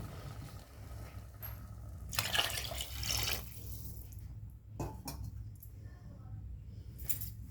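Water, including water used to rinse a mixer jar, runs and splashes into a pot of rice in short bursts, with a louder pour near the start and a second brief gush later, over a low steady background hum.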